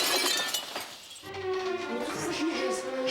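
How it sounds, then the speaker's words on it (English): Glass from a house window shatters in a sharp crash, followed by tinkling shards and a lingering ringing texture at night. "The Kushniks were awakened by the terrifying sound of glass breaking."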